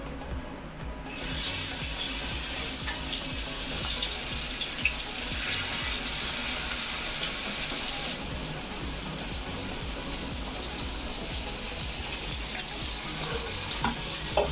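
Pieces of seer fish (vanjaram) fry in hot oil on a dosa pan. The fish gives a loud, continuous sizzle that jumps to a brighter hiss after the first second and keeps crackling steadily to the end.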